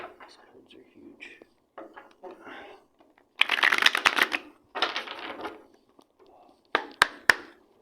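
Large tarot cards being shuffled in several loud, crisp riffling bursts with pauses between, with soft handling rustles in the gaps.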